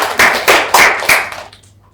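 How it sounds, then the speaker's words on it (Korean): Four quick bursts of hand clapping ring out close and loud at a school trip presentation, a short rhythmic run that stops abruptly, leaving a brief tail of scattered fainter sound. "박수!"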